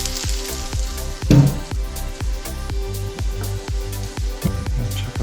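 Fish pizza topping sizzles steadily in a frying pan while being stirred in quick, regular strokes, each scrape giving a soft rhythmic click over the close, constant crackle of frying.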